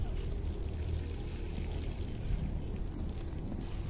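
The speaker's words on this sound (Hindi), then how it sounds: "तो हम इसको पानी देंगे।" Water is poured steadily onto freshly repotted Bergeranthus multiceps succulents, a soft, close, continuous splashing stream with no talking.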